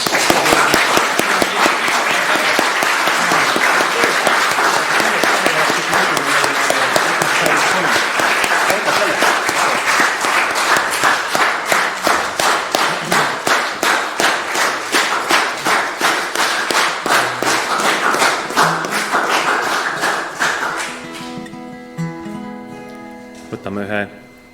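Church audience at an advent concert in Kärdla Baptist Church claps loudly and steadily for about twenty seconds, the applause tightening into rhythmic unison clapping before fading into quiet instrumental tuning.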